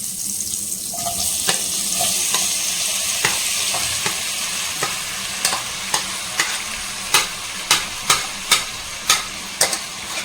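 Capsicum dry-roasts in a hot pan with a continuous sizzle, broken by a run of sharp spatula scrapes and taps that grow louder and more regular toward the end.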